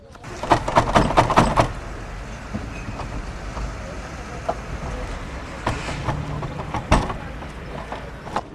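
Someone struggles with the jammed emergency exit door of a faulty minibus during an inspection, making a quick run of rattling knocks and bangs, then scattered clunks in a noisy interior.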